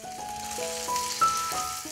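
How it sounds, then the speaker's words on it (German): Chicken leg pieces searing skin-side down in a hot roasting pan, a soft crackling sizzle with a few faint clinks and tonal rings from the pan, quiet and close. "Wir fangen beim Anbraten gleich mal mit der Haut an."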